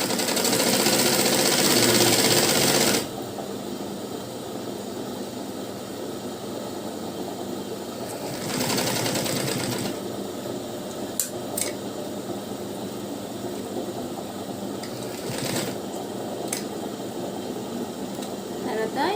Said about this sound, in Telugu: ఇప్పుడు ఈ చివరికి కుట్టు వేసుకోవాలి